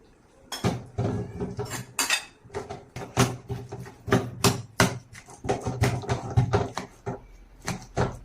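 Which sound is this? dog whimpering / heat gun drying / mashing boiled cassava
mashing boiled cassava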